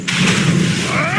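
A spell cast in Hogwarts Legacy lands as a loud, close whooshing blast with a rumbling low body and a rising shimmer, filling a brief moment without pause.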